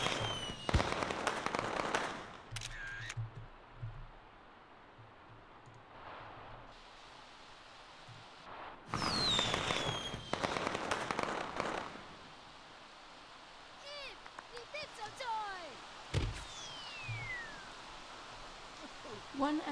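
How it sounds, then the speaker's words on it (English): Fireworks launch in The Sims 3 Seasons. Bursts of crackling and booming arrive in several clusters with whistling rises between them, and a voice speaks over part of it. "Wow, I love fireworks so much."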